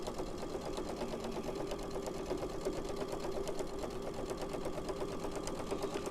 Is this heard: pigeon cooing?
no